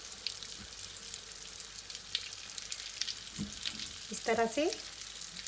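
Chicken hot rods fry in hot oil over a medium flame, a steady broadband sizzle running throughout with a few soft knocks, and a person briefly speaks near the end.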